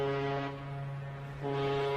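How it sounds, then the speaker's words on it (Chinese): Deep tonal steam whistle of an ironclad warship, two long steady blasts with a short dip between them, moderately loud and without any talk. "汽笛声响，一道道浓烟从烟囱喷出"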